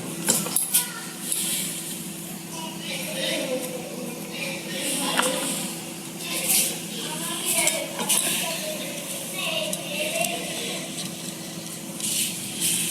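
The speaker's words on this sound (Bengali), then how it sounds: "কুচি কুচি করে কাটছি।" Banana flower being finely chopped with a knife, light repeated clinks and cutting taps over a steady background hum, close and moderately loud, with faint speech mixed in.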